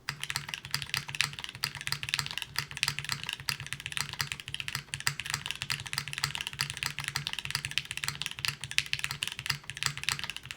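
A mechanical keyboard fitted with Milky Yellow switches is typed on steadily, producing a dense, continuous run of close, soft-to-moderate key clacks with no speech.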